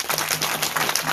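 Applause at an outdoor community gathering at Pusuk Buhit, a dense, steady wash of many hands clapping for about a second, fairly close and loud, with no speech over it.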